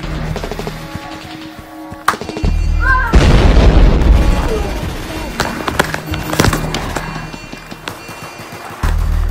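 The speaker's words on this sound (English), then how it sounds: "Grenade out!" A grenade goes off in a real-life Rainbow Six Siege style game, a loud close boom that bursts in and then rolls away over several seconds, with people talking before and after it.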